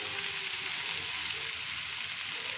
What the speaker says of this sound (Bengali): এই কারণে আজকে একটু ভেজে রান্না করা